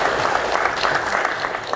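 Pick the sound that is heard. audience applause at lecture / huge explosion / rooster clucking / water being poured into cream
audience applause at lecture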